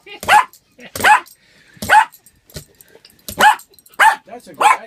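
A dog barks close by in a run of about seven sharp barks, roughly one per second, with brief quiet gaps between them.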